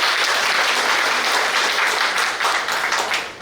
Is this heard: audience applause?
yes